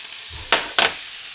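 Onions and greens hit hot oil in a pan, giving two quick bursts of bright sizzling frying over a quiet background, with no one talking.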